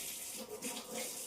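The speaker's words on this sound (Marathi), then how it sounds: "सौख्या हात धुवून आलेली आहे." Water runs from a tap while a girl washes her hands at home. The flow is faint and continuous, with a soft, indistinct voice in the background.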